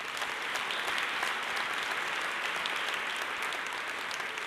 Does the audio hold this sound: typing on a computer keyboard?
no